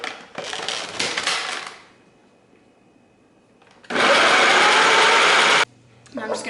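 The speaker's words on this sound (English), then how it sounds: "And then I'm just going to blend that up a little bit." Kitchen blender whirring through cold cubed butter with fresh herbs in two bursts, a rough grinding pulse followed by a louder, steady high-speed roar that cuts off abruptly, with quiet pauses between.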